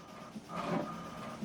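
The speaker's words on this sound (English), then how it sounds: "So what it's doing now is printing the alignment." An HP Deskjet 2700 printer running off an alignment page makes a soft mechanical whir and shuffle, with a brief louder stretch of paper feed in the middle and a quiet motor hum around it.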